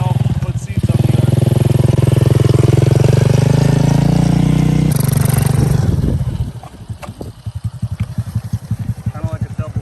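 A scrap-built three-wheeler with a Typhoon 124 engine and BW80 front end roars loudly and steadily at high revs, then drops into a choppy, pulsing idle, tearing around a yard.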